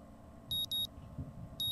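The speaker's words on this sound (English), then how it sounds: "the sound of my alarm quickly has me up and about" An electronic alarm clock in the visual novel Katawa Shoujo sounds in short, bright double beeps, two quick pulses then another after a pause, fairly faint over a low background hum.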